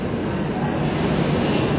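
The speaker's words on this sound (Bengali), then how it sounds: "আমাদের পাশ দিয়েই বেরিয়ে যাচ্ছে 12 নম্বর প্ল্যাটফর্ম থেকে দার্জিলিং মেল।" Darjeeling Mail express train pulling out of platform 12 at a busy Kolkata station, a steady, loud, close rumble of wheels and carriages rolling past without a break.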